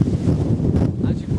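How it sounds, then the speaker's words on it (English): Strong gusty wind buffets the microphone outdoors while fishing, with 50-mile-an-hour gusts forecast, a loud continuous low rumble filling the whole short stretch. "It's extremely windy today."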